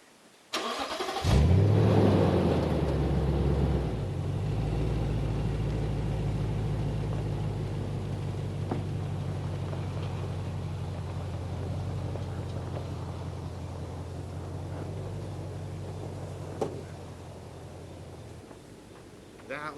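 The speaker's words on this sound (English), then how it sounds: "I'm pretty close to rolling my truck." A truck engine revving steadily as it drives over rough, sloping desert ground near Shiprock in the Navajo Nation, New Mexico. It starts abruptly, then holds a loud, rumbling drone with a rattling texture for many seconds, with no one speaking.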